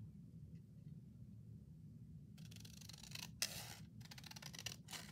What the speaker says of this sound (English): So then we are going to cut this off.